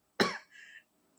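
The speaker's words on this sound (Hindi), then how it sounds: "थोड़ा गला में वैसे बैठ गया है, तो थोड़ी खांसी आ गई" A man gives one sharp, close cough with a raspy tail from a sore throat, then a short breathy throat sound, and quiet follows.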